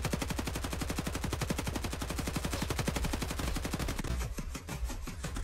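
Rapid automatic fire from hip-firing a gun in Escape from Tarkov: a long, evenly spaced burst of close, sharp shots, about eight per second, ending after roughly four seconds into fainter scattered noise.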